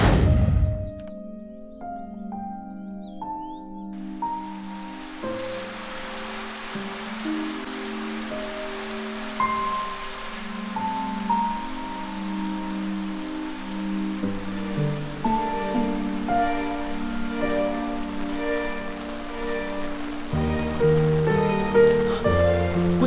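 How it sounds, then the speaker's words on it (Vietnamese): Steady rain falls in a constant hiss, with soft music playing over it throughout. "Tiểu thư, tại sao cô lại ở đây dầm mưa?"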